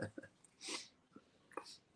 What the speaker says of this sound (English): might be annoyed by the sound of me sneezing.